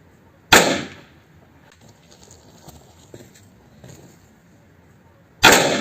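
A weaker green Pirat firecracker bursts inside a can, one sharp loud bang near the start, a quiet pause with faint rustling, then a second sharp blast at the very end.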